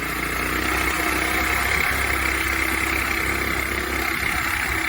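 A 79cc small engine on a go-kart runs steadily at a constant drone, close and loud, with no talk over it.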